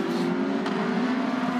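Porsche endurance race cars, numbers 1 and 2 in a six-hour WEC race at the Nürburgring, passing with a continuous loud engine roar at steady pitch, close and sustained with no talk.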